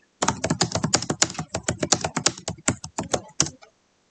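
Someone types a line of input on a computer keyboard in a Linux terminal: a quick, close, crisp series of about two dozen keystrokes in uneven rhythm, then silence.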